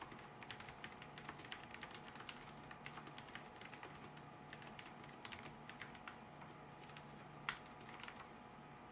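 Soft, muted typing on an Alienware AW510K keyboard with Cherry MX Red mechanical switches, a rapid stream of light cushioned clicks, very quiet and steady, close to the listener.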